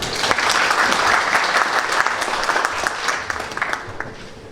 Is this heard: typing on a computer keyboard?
no